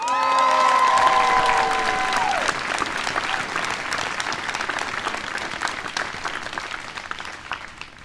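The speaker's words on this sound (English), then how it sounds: "Thank you for cheering." A school audience at a graduation ceremony breaks into sustained applause with some cheering, dense clapping that stays loud and slowly thins out, following a brief tonal musical or voiced sound at the start.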